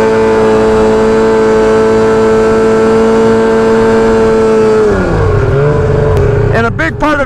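A snowmobile engine drones loud and close at a steady throttle while carving, its tone holding even before dropping in pitch and picking up again near the end.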